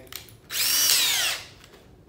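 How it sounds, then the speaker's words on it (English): A half-inch electric drill motor whirs up for about a second in a workshop where aluminum boat parts are drilled, a loud, high-pitched spin that rises and then winds down between quiet gaps. "the next thing that I'm going to do is get my 1/2-inch drill motor"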